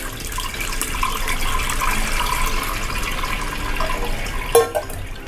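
Curdled milk is poured through a strainer to separate homemade chenna from the whey for rasgulla, giving a close, steady stream of splashing liquid and then a brief clatter near the end.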